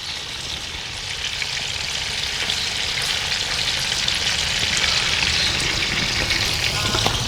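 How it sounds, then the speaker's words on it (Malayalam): Fish pieces for a fish biryani fry on a high flame, giving a loud, steady, dense sizzle with fine crackling that runs unbroken throughout, no voices over it. "നല്ല ഹൈ ഫ്ലെയിമിൽ വേണം ഇങ്ങനെ വറുത്തെടുക്കാൻ കേട്ടോ"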